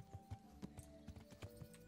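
Horse hooves clip-clop in a steady, even rhythm in the medieval game Kingdom Come: Deliverance, fairly close and clear with no talking over them.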